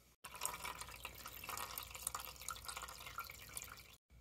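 Water drains and drips steadily from a marine Chevy 5.7 Vortec exhaust manifold on a Silverton 34C boat, a continuous faint splashing trickle that stops abruptly near the end.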